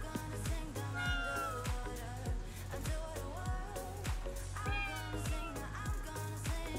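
A cat-like yokai in Ghostwire: Tokyo meows several times in clear, rising and falling cries over a steady, rhythmic low game background.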